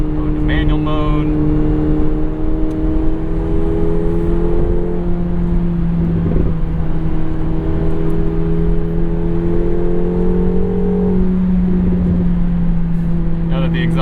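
A 2024 McLaren 750S in manual mode, its engine and exhaust droning steadily with slow pitch rises and dips as it revs under load, loud and close from inside the cabin, with a voice talking over it.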